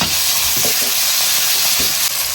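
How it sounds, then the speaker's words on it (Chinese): Garlic chives stir-frying in hot oil in a wok, a steady loud sizzle and hiss with brief scraping stirs throughout. "蒜黄炒香"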